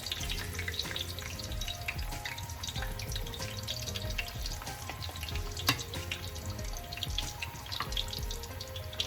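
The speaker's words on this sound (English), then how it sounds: "You see that sizzle? That's what you want to see." Green plantains frying in hot oil for Dominican tostones give a steady, dense sizzle and crackle that holds at an even level throughout, close and alone with no talk.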